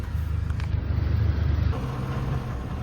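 Inside a moving car, the cabin fills with a low, continuous road and engine rumble. It eases slightly toward the end, and there is no talking.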